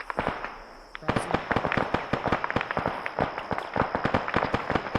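Rapid bursts of gunfire in a military shooter video game, sharp cracks and pops repeating irregularly throughout, some close and loud, others more distant, under quiet radio-style voice chat.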